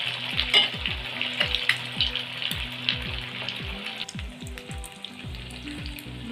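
Bread pakora chops deep-frying in hot oil in a kadai, a steady close sizzle and crackle running throughout with a few soft taps of utensils underneath.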